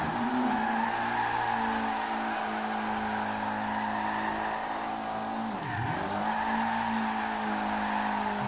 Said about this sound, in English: See how she does with some free roam drift action.